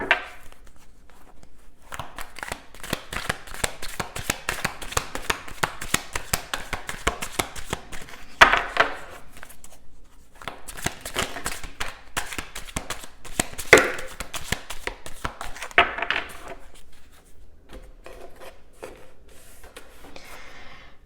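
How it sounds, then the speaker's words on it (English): Tarot cards are shuffled again and again in long bursts of rapid riffling and flicking, close up, with short pauses between rounds. "These shuffles do take quite a while."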